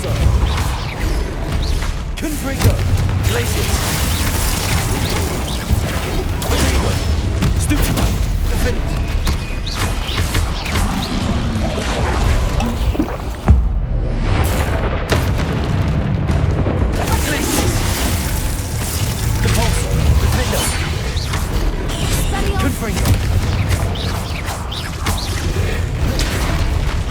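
Spells cast in Hogwarts Legacy, including freezing, repelling and blasting charms, producing a dense, loud, continuous wash of magical impacts and booming explosions, with voices heard at times.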